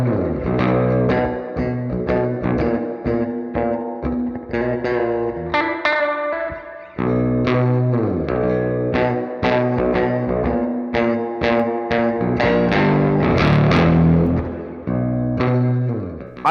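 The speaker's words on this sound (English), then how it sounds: "I have sort of a slapback," An electric guitar through a Boss DD-3 delay pedal on a slapback setting plays chords and single notes, each with a quick short echo behind it, loud and close with no voices.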